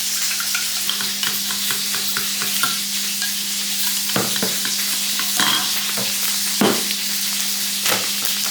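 Sausages frying in plenty of hot oil, a steady loud sizzle with sharp pops and spatters of oil breaking through at intervals, no voices over it.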